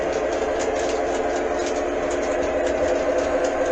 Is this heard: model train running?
yes